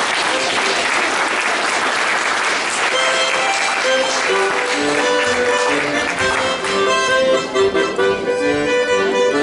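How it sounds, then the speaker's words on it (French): Audience applause at a live French chanson concert, sustained dense clapping from a crowd that continues steadily, with some musical tones beginning to sound underneath toward the end. "On peut applaudir les amis de Louise,"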